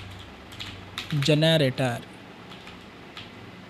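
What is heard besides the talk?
typing code on a computer keyboard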